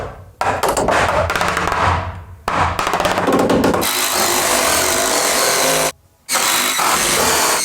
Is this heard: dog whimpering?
no